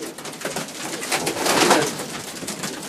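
Racing pigeons in a dim loft in Oleśnica coo softly and repeatedly against a steady, rustling background, the murmuring calls swelling slightly toward the middle.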